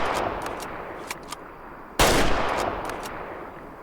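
A rifle fires in the hunting game Way of the Hunter, one sharp, loud gunshot cracking out of steady outdoor ambience and trailing off into a brief echo.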